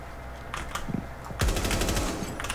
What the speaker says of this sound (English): He was hip firing with a pistol.